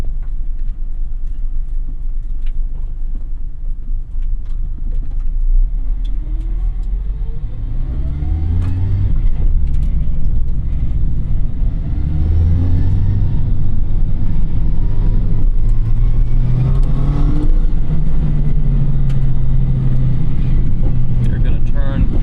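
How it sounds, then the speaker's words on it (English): Mazda MX-5 Miata ND2 with track modifications driving, engine drone and rising gear whine carrying through the cabin as it accelerates and shifts, steady and loud from inside, with a voice speaking over it. "We're going to hear more of the transmission."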